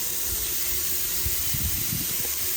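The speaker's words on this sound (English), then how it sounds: "let's go outside and put these burgers on the Ninja Woodfire Grill." Wagyu beef burgers sizzling on a Ninja Woodfire Grill outdoors, a steady broad hiss of searing fat that stays constant throughout, close and moderately loud, with faint low bumps underneath and no talking.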